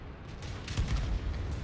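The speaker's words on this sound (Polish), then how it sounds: "I teraz świetny strzał w wieżyczkę T55A." A tank's main gun fires in a World of Tanks battle, hitting the turret of a T-55A: a dense, booming low rumble with crackling bursts, steady and fairly loud across the moment.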